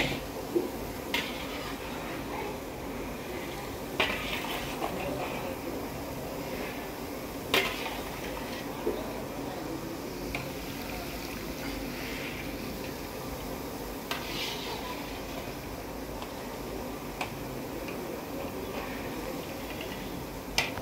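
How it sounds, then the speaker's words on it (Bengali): Boondi fry in oil in a shop kitchen, a steady, soft crackling sizzle broken by occasional sharp clinks of metal utensils against the pan. "চলো বোঁদেগুলো ভাজা করি"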